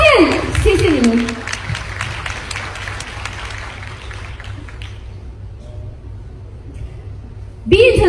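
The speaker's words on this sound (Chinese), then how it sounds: "借助大家掌声" An audience at a BE International direct-sales company gathering applauds in a dense, sustained patter of clapping for about five seconds, with a voice talking over the start and another speaking again at the end.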